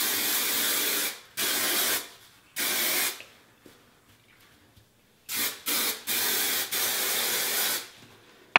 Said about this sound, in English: It's drugstore, so it's the Herbal Essences Body Envy Volumizing Hairspray.